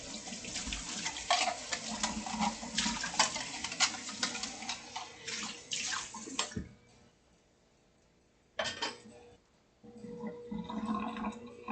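Tap water runs steadily into a kitchen sink as black beans are rinsed, a continuous splashing rush that cuts off midway, pauses near silence, then briefly returns and resumes.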